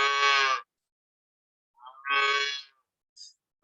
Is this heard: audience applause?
no